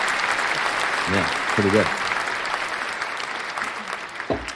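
Applause from a small crowd, steady dense clapping throughout at moderate loudness, with a voice talking briefly over it.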